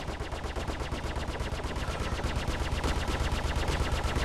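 Rapid, continuous machine-gun fire from a space dogfight in Star Citizen, a dense steady stream of shots at an even quick rhythm, loud and unbroken with no talking over it.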